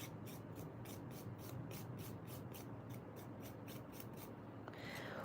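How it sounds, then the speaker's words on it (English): A nail file lightly scuffs a fingernail bed with quick, regular faint strokes, about a dozen soft rasps in a row close by, over a steady background hum. "when we file over my nail bed like this"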